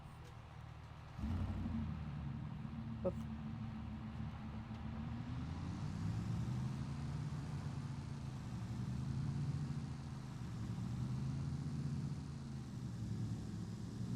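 A car engine starts up after someone gets in and then runs with a steady low rumble close by for the rest of the stretch. A brief spoken word comes just before it starts.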